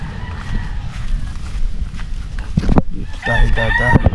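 Chickens and roosters crow and cluck close by amid rustling and shuffling. A rooster's wavering crow rises near the end.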